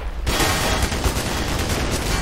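Heavy gunfire and explosive blasts from a tank in the video game Black Mesa, a dense loud barrage that starts abruptly and keeps rattling on without a break, no voices.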